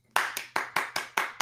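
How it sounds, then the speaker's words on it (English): A slow, deliberate clap rings out alone, six sharp hand claps spaced evenly at roughly a third of a second apart, close and clear. "slow clap from Canada."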